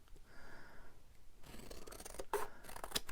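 Scissors trimming a piece of journal card for a junk journal, a few close, sharp snipping cuts after a quiet start, with no voices.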